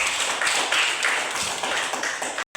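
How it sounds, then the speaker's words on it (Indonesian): A group in a micro-teaching classroom gives a short burst of applause: brisk, overlapping hand claps form a continuous, fairly loud patter that cuts off abruptly near the end. "Tepuk tangan dulu untuk kita semua."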